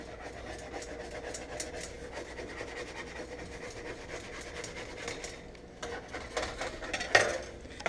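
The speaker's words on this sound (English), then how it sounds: "get in there with a spatula" A spatula scrapes and stirs scrambled eggs in a pan, giving a steady run of soft scraping and clinking that is fairly close, with a few louder knocks of utensil against pan near the end.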